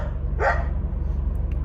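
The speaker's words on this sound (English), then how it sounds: "she always barks at that Danny" A single short dog bark sounds nearby, rising over a steady low rumbling background noise.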